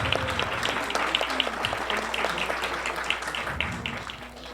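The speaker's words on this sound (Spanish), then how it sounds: "Les pido un fuerte aplauso para Silvia." Audience applauds for Silvia at an anniversary ceremony of a human rights commission's rapporteurships, a steady burst of clapping lasting several seconds with no talk over it.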